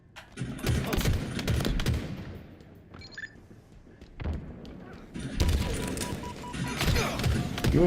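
Bursts of rapid automatic gunfire in the video game Halo Infinite during a capture-the-flag match, loud rattling volleys with a quieter gap and short in-game announcer sounds in the middle.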